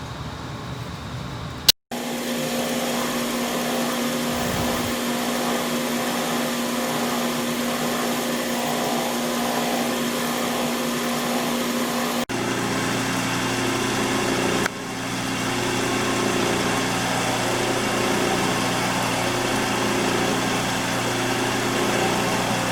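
A lathe runs steadily while parting off a large diameter disk, a continuous loud motor whine with a cutting drone that shifts in pitch partway through, after a brief sharp click near the start.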